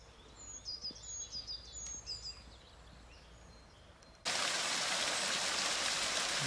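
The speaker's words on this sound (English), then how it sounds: "This is the first little water cascade that we've seen for the whole of the walk." A small water cascade on the Cotswold Way walking trail near Wotton-under-Edge, heard at first as faint trickling beneath birdsong, then as a loud, steady broadband rush of falling water once close to the flow.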